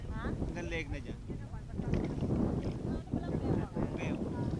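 Strong wind at sea during a storm roars and buffets the microphone throughout, with people talking loudly over the gusty, rushing noise.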